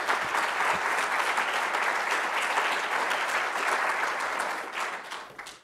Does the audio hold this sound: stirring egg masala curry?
no